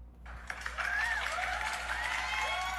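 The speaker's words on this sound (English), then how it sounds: "let's give a round of applause here." A small audience gives a round of applause during a late-night sports trivia game show, a steady wash of clapping with some whistling or cheering tones running over it, moderately loud from start to finish.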